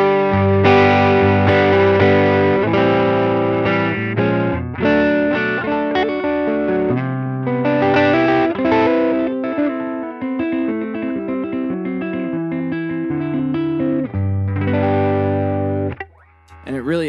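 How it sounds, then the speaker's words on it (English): Electric guitar played through a Klon-style overdrive into a distorting amp model on a Line 6 HX Stomp, giving a thick, mid-heavy driven tone with sustained chords and riffs, loud and continuous with no talking. "The Klon pushes the overdrive much harder, especially in the mid frequencies."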